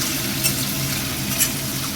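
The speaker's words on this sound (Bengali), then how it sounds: "অল্প অল্প করে মাছগুলো ছাড়ছি এবং এই মাছগুলো একটু হালকা করে ভেজে নেব, খুব কড়া ভাজবো না।" Tangra fish frying lightly in hot oil give a continuous soft sizzle and crackle, steady and close, with no talking.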